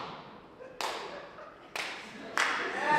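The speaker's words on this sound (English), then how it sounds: "you clapping on every word?" Audience applause at a stand-up comedy show in Morgantown, with three sudden bursts of clapping that start sharply, each swelling and then easing off, the last one building toward the end.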